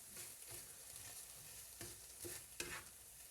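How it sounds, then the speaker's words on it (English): Paella being stirred in a pan, a soft steady sizzle broken by a few scraping spoon strokes against the metal. "Right, we'll give this a good stir."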